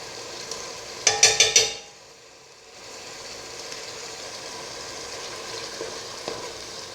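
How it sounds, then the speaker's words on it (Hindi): Vegetables fry with green chili paste for a vegetable pulao, opening with a rapid burst of four or five metallic clinks against the pan, then settling into a steady, moderate sizzle with a faint tap near the end. "इसे 1 मिनट के लिए भून लेंगे"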